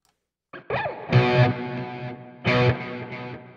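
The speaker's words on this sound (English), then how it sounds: "And let's give it a little reverb." A distorted electric guitar through an amp simulator with reverb sounds a few chords with a washy, lingering tail that hangs in the air between strokes.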